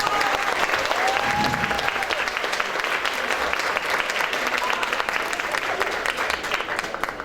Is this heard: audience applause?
yes